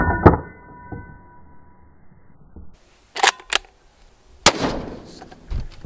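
A 6.5 Creedmoor rifle fires ball ammunition into a car, giving a sharp loud crack near the start, then quieter stretches and several further sharp bangs and impacts.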